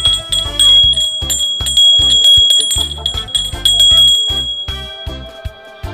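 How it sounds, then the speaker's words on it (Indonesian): A bell on a vintage Burgers onthel bicycle rings loud and close, struck repeatedly in rapid metallic dings with a bright, sustained ring, without talk. "Ini lonceng."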